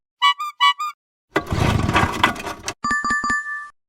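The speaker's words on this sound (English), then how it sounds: "Sound is boat motor start" A boat motor starting up: a loud, rough, low-heavy mechanical burst lasting over a second, preceded by a pair of chiming tones and followed by a string of electronic beeps.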